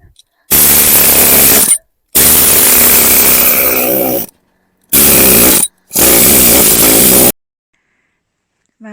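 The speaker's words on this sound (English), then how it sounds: "I've started the pointing again now, so I'm actually drilling away" A power drill grinds mortar out of brick joints for repointing, running in four loud bursts of one to two seconds each with short silent gaps between them.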